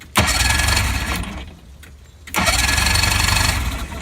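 The engine of a vintage 1960s fiberglass Arkansas Traveler Dart boat cranks and catches on the key, a loud burst of running that drops away briefly before firing up again.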